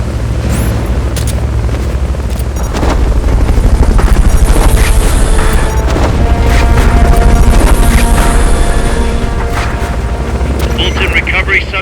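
A helicopter in the video game Metal Gear Solid: Peace Walker: a loud, steady rotor roar with heavy low rumble and wind-like wash that swells midway, with game sounds layered over it.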